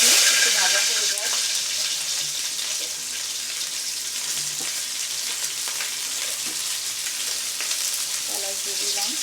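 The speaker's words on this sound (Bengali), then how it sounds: "মাংসটা এদিকে ভাজা হতে হতে আমি এদিকে দারচিনি এলাচ দিয়ে দিচ্ছি, একটু ভাজা হয়ে যায়" Meat frying in a pan with cinnamon and cardamom gives a steady, close sizzle that fills the whole stretch, with faint clinks and stirring scrapes now and then and a low voice briefly in the background.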